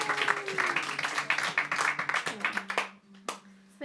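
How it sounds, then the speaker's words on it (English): An audience at a folk club claps for a singer, with crisp, uneven hand claps for nearly three seconds that thin to a few stray claps, and voices faintly mixed in. "we need one special round of applause for Rosie"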